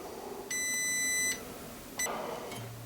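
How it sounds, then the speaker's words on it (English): A multimeter in continuity mode beeps while probing a transistor inside a NAD 2200PE power amplifier: one long steady tone lasting almost a second, then a short beep and a fainter chirp, over low hum with no talking. "a beeping transistor is never good."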